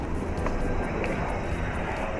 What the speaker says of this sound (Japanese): 飛行機が飛んでるので聞こえないかな